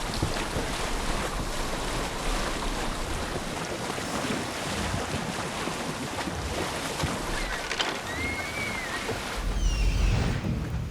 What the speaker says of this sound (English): Can't handle the waves out there.